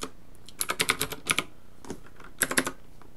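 Fingers type code on a computer keyboard, producing quick clusters of sharp key clicks separated by brief pauses, close and clear, with no talk.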